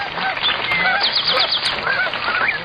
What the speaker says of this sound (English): The bird we were looking for was the American black duck